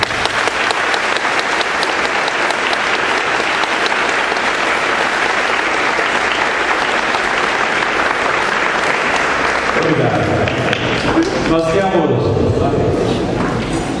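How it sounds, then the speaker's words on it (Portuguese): Audience applause for a martial arts master at a tournament event in Itaguaí, loud and sustained dense clapping filling the room, thinning toward the end as a voice begins speaking. "uma salva de palmas ao mestre Bravin por esses tantos anos de dedicação"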